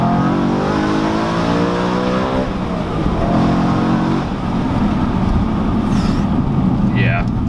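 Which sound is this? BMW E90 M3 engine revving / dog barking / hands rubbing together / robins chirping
BMW E90 M3 engine revving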